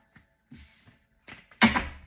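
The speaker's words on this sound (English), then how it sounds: "I just wanted to give it like a good little shuffle" A heavy deck of tarot cards being shuffled by hand, split into smaller piles: a few soft riffles and taps, then one louder, close burst of card flutter near the end, with no talking.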